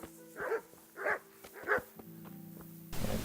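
Dogs bark three times in a medieval combat video game, each bark loud and evenly spaced, followed by a short rough burst of noise.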